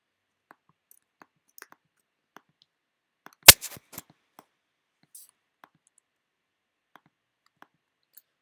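Computer mouse clicking during floor-plan drawing software work, a few sparse faint clicks with one sharper cluster of clicks near the middle in a quiet room.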